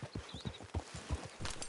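Horse hooves clip-clop at a steady walking rhythm in Red Dead Redemption 2, close and fairly quiet, with faint ambient sound behind the hoofbeats.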